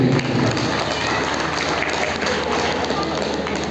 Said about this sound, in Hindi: मैं चाहूँगा कि एक बार जो तालियां बजनी चाहिए वो दीक्षा के लिए बजनी चाहिए